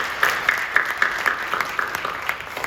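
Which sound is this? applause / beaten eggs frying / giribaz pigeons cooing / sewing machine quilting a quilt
applause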